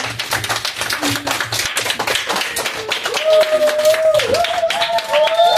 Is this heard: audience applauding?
yes